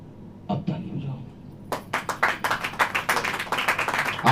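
A church congregation claps during a sermon, starting with a few scattered claps and then building into rapid, rhythmic clapping that grows louder, with brief voices heard at the start.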